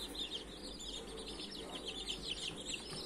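Young chicks peeping steadily in thin high chirps over a constant low hum, the calls overlapping without a break.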